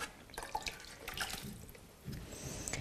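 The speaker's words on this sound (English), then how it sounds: "So I'll just first add my water in the pot" Water pours into a cooking pot for an Iranian rice dish, a steady moderate splashing with a brief gap and a fresh rush near the end, close by with no talk.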